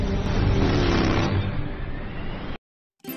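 A car drives through a dark tunnel, its engine a steady, loud broadband roar for about two and a half seconds before cutting to silence, then a brief return of noise at the end.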